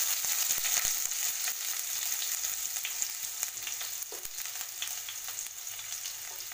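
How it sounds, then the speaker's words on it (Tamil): Onions frying in a pan for a village-style white kulambu, a steady sizzle with occasional stirring clicks, close and fairly quiet, with no talk. "அதற்கு பிறகு நாம் வெங்காயத்தை இதில் சேர்த்து கொள்ளலாம்."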